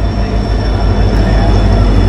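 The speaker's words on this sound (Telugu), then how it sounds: "ఫైనల్లీ ట్రైన్ 5 మినిట్స్ బిఫోర్ వస్తుంది ఫ్రెండ్స్." Long-distance express train with a WDP-4D diesel locomotive arriving at a station platform on the Dharmavaram–Pakala route, a steady loud rumble of rolling wagons and wheels filling the whole stretch.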